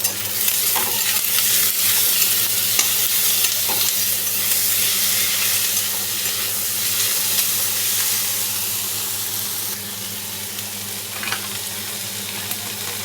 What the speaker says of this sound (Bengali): পেঁয়াজটাও লাল লাল হয়ে ভাজা হয়ে গেছে